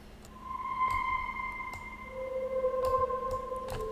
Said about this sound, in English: I pulled up this Omnisphere sound called granular violin harmonics